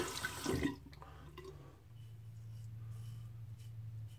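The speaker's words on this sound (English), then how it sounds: "Rinse the razor." Tap water runs into a bathroom sink as a razor is rinsed during shaving, a close, full splash at first that drops into a steady, softer trickle.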